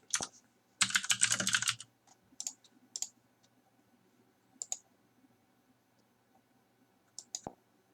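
Card details typed on a computer keyboard, a dense run of rapid clicking keystrokes followed by scattered single key taps and short clusters, close and fairly quiet with no talk.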